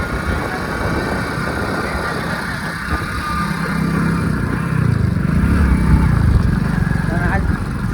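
A Hero Splendor motorcycle engine hums low and steady while being ridden on a Konkan road trip, with a person talking over the continuous rumble.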